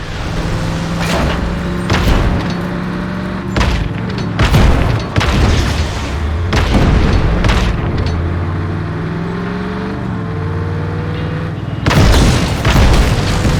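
Cannon fire and explosions from Just Cause 3 gameplay, a run of loud deep booms recurring every second or two, with rumbling blasts and a steady low engine-like drone underneath.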